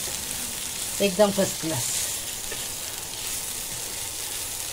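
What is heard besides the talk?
vegetable filling with chicken cooking in a pan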